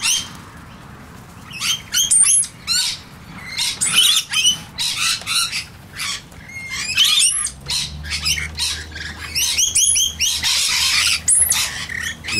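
Rainbow lorikeets call with shrill, rapid screeches and chatter at a bird sanctuary, in bursts that overlap throughout, along with a low hum underneath.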